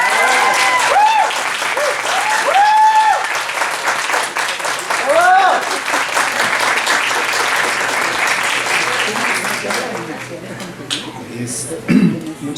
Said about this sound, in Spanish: Les vamos a dar un aplauso al querido doctor Sergio